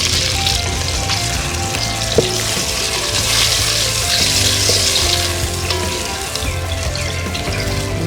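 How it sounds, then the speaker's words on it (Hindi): Onions fry and brown in a pan with whole spices: cardamom, cinnamon pieces and cloves. A loud, steady sizzle runs throughout with occasional stirring clinks and no talking. "ये हम प्याज ब्राउन कर रहे हैं।"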